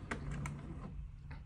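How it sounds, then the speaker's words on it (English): An Epson 8550 printer initializing and running ink through, a steady mechanical whir with a few soft knocks, close and fairly quiet, with no voices. "you can hear the printer in the background is still doing the initializing"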